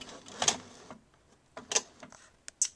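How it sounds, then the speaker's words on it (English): A Gypsy cutting machine loading its cutting mat gives a few short mechanical whirs and clicks, close by, separated by quiet gaps, with no talking. "We're going to load the mat in the machine."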